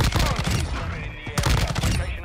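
Rapid automatic fire from an M13C rifle in Modern Warfare II, dense close bursts filling most of the moment with a brief pause partway, with faint game chatter underneath.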